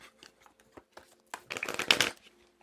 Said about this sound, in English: the sound of the cards shuffling. Best sound ever.